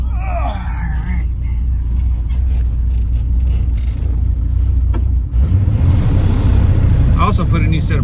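Ford F600 truck engine idling steadily after new points were fitted, a low close rumble that runs throughout with someone talking over it and some clanks near the end.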